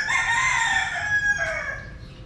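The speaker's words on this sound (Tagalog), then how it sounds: "May manok." A rooster crows once in a street setting in Vigan City's heritage district, a single clear, drawn-out cock-a-doodle-doo at moderate distance over faint background noise.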